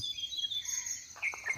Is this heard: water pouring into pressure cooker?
no